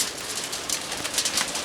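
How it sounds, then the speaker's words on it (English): Rain returning outdoors over a barbecue cook of pork belly, a steady fine hiss of drops with soft patter throughout, fairly close and without talk. "the rain has returned"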